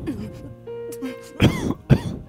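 A person coughs twice in quick succession, close and fairly loud, with rough, harsh bursts following a moment of quieter throat sound.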